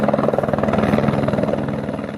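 A helicopter flies steadily and loudly close by, its rotor pulsing in a fast, even beat, alone with no voices over it.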